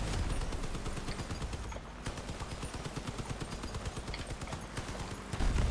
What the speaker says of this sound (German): Ich höre schon ordentlich Geballer hier.